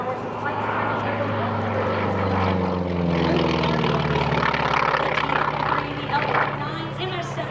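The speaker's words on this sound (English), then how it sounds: "the T-28 you see him flying today" A North American T-28 Trojan flies at the EAA AirVenture airshow, its propeller and radial engine drone loud and steady throughout, with a slowly shifting pitch as it passes.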